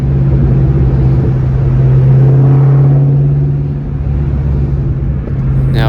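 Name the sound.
Ford Mustang Terminator Cobra engine driving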